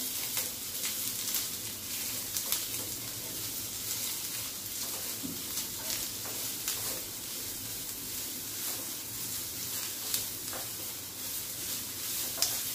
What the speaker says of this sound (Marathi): कांदा घालून आपल्याला कांदा चांगला लाल होईपर्यंत परतवून घ्यायचा